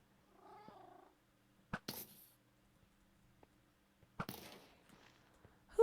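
A cat in a video game gives a short meow, followed by sparse soft rustles and clicks in an otherwise quiet scene.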